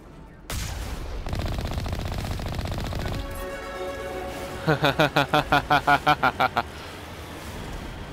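Enemy gunfire in the game Mass Effect comes as bursts of shots, then a rapid rhythmic volley of about a dozen loud reports, over engine-like rumble.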